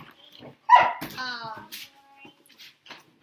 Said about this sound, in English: I'm going to have to put those dogs up.